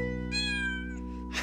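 A cat meows in a short, drawn-out call over a steady humming background, set in a cartoon scene with a fire engine.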